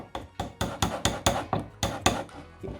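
Quick, steady hammer taps driving a wooden dowel into an Ikea Kallax shelf, about ten sharp knocks in a row, close and distinct with no talking.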